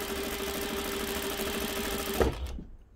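Juki DDL-8700H industrial sewing machine stitching light fleece, a steady close mechanical whir with rapid rhythmic stitching that runs continuously and then stops abruptly near the end, leaving a brief fading tail.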